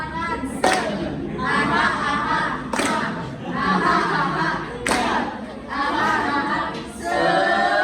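A class claps in a rhythmic pattern, with sharp bursts of claps repeating every two seconds amid chanting voices.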